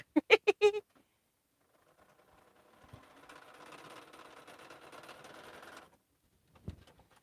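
A home sewing machine runs for about three seconds while stitching a quilt border seam, giving a fast, even mechanical whirr, preceded by a few loud clunks and followed by a short thud, close and with no talking.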